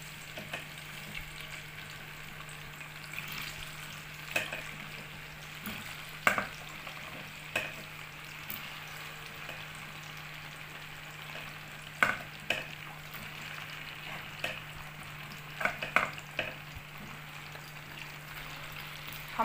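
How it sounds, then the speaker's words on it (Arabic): Potatoes frying in a heated pan, a steady low sizzle throughout with occasional sharper pops and crackles scattered across the clip, heard close and alone. "اول حاجه سخنت الطاسه وهنزل بالبطاطس"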